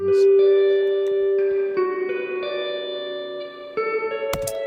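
Sustained electric guitar chords drenched in lush, fully wet plate reverb, each change blooming into a long, washy tail, with a brief bright burst near the end.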